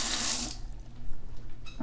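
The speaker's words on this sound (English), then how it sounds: "you can go ahead and run some water" Tap water gushes loudly into a sink drain during plumbing work to clear a clog, a bright hiss for the first half-second before cutting off, then a faint drip-like trickle near the end.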